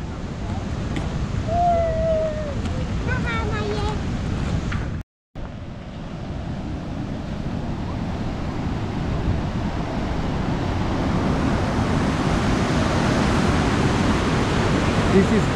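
Huka Falls in New Zealand roars as a broad, steady rush of water, loud and constant. A voice speaks briefly over it early on, then after a short cut the torrent continues alone and grows brighter.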